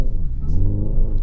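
The simulated engine sound of a Hyundai Ioniq 5 N electric car rises in a short, loud, rumbling burst as the car accelerates, with a low growl up close.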